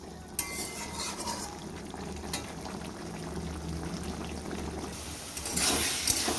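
A ground paste of cumin, ginger, green and dried chilli and tomato fries in a pan as a low, bubbling sizzle with occasional spoon scrapes, swelling louder near the end.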